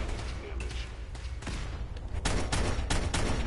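Gunfire crackles in Fallout 4 during a fight with synth troopers and a Brotherhood Star Paladin, a string of sharp bursts growing denser and louder toward the end, with someone talking over it.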